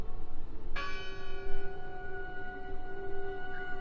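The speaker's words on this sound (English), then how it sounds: "I heard the bell." A church bell in the game Draugen strikes once, with a bright metallic onset and a long ringing hum that hangs over steady wind-like background noise.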